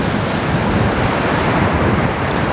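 Strong wind roars across the microphone on the Benidorm seafront, a loud, dense rush that blends with surf-like noise and holds steady with no break.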